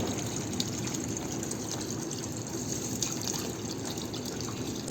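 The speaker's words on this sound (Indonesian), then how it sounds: "kita cuci terlebih dahulu batang-batang dan sisa-sisa batang sayurnya tersebut" Water gushes and splashes steadily while vegetable stalks and leftover scraps are washed before being made into eco-enzyme. The running water is continuous and close, with small irregular splashes and no talking.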